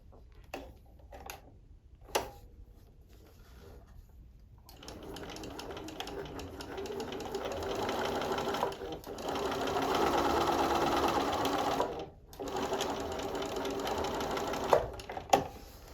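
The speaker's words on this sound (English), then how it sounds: "you're going to take it to your machine and sew from this corner to this corner" Sewing machine running in sustained bursts as it stitches a quarter-inch seam corner to corner across bias binding strips, preceded by a few short clicks and handling noises, loud and close with no talking.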